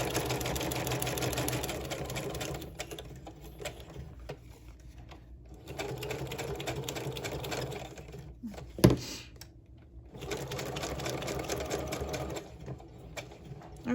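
A sewing machine stitches zigzag and straight seams, running in a steady close mechanical whir, stopping briefly several times between stretches of stitching.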